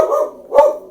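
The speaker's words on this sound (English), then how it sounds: "Didn't make it through the video without him barking." A pet dog gives two loud, close barks indoors, a sharp first bark followed by a second about half a second later.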